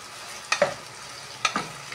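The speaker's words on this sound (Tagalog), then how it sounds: "Daan lang muna natin siya sa mantika sandali." Chicken pipian being stirred in hot frying oil, giving two quick scraping stirs against a soft, steady sizzle, close and fairly quiet, with no talking.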